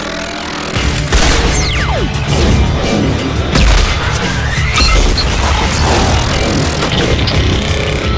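Shotgun blasts crash through combat in the video game Mass Effect 2, loud and dense, with repeated booming shots and impacts layered over a continuous roar of battle.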